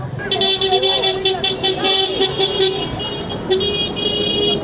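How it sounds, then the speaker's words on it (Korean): Car horns honking in Cairo traffic: many loud, overlapping toots and long blasts over a constant rumble of vehicles, with voices nearby. "여기 빵빵이 세레모니야."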